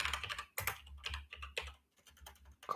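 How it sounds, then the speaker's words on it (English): Rapid typing on a computer keyboard, close and fairly quiet, in uneven bursts of key clicks with brief pauses between them and no talk over it. "I'm typing everything as one word."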